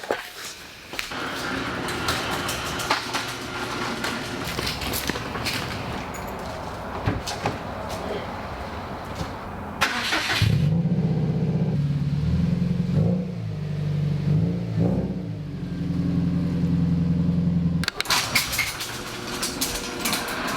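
Mixed noise gives way to a car engine that starts up and runs with a steady low hum, revving slightly, before other sounds return.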